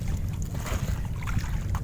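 Steady low rumble of strong wind buffeting the microphone while fishing by a fish trap, constant and loud throughout, with faint splashy water texture on top.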